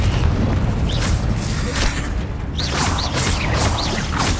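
A Confringo fire spell blasts in Hogwarts Legacy combat, with deep rumbling booms and crashing impacts in a loud, continuous battle mix and short whooshing effects on top.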